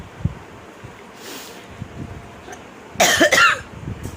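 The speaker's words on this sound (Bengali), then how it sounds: "আমার এত কাশি হয়েছে" A single short, harsh cough near the end, close to the microphone, over soft background rustle and wind noise.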